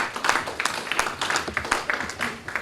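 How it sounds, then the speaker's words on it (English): A conference audience claps, with individual hand claps clearly audible as a close, uneven patter of moderate loudness that continues throughout. "With another round of applause, please,"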